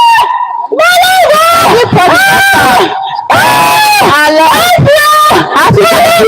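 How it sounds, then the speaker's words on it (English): A woman screams repeatedly at full volume, long wailing cries broken by short gaps, harsh and close. "She's screaming for help."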